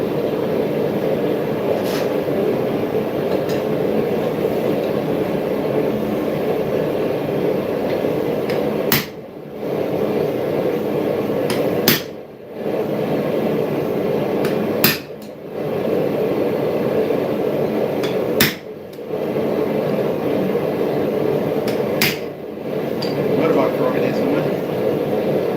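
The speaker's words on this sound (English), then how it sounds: "Now I'm going to chisel slight cross grooves." Sharp hammer blows on a chisel cut cross grooves into hot steel at a forge, single strikes spaced a few seconds apart over a steady background roar.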